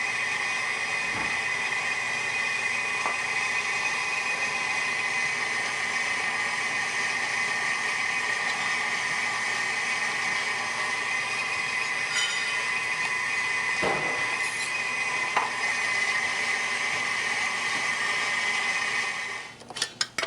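An electric mixer whipping egg whites to stiff, glossy peaks, a loud, steady mechanical whir running throughout before cutting out at the end.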